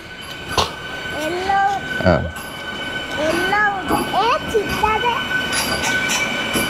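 A white train with red lining stands at Karimnagar railway station, bound from Karimnagar to Sirpur Kagaznagar, giving off a steady rumble and hum with a few sharp clanks, while people talk nearby throughout.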